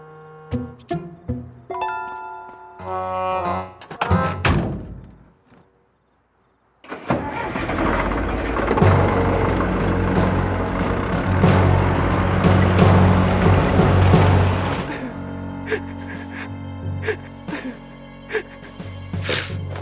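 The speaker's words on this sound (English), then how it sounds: "it takes a real man to drive through stuff with heavy machinery" Heavy machinery in an animated cartoon drives through things: a loud engine roars and rumbles after a brief near-silence, with crashing and clattering impacts, preceded by mechanical clanks and beeps.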